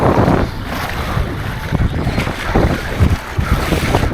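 Strong wind buffets the microphone outdoors by open water on a cold 38°F day of a polar plunge, a loud, continuous roaring rush with gusty surges and no talk.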